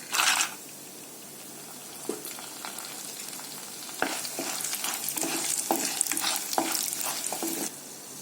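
Sundakkai vathal and fenugreek seeds fry in hot oil for vathal kulambu, starting with a brief burst of spattering, then a rising crackle and sizzle with occasional spoon scrapes, close and steady.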